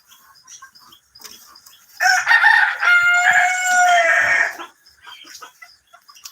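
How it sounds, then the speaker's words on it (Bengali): Desi chickens on a farm, a rooster crowing loudly in one long drawn-out call, with softer clucking and scattered bird noises before and after. "এগুলা হচ্ছে দেশি মুরগি ডিম টিম দেওয়ার জন্য আর কি"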